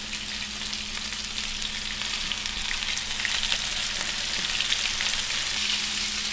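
Venison from a South Dakota archery deer fries steadily in a pan, a constant close hiss of sizzling with no pauses and no voices over it.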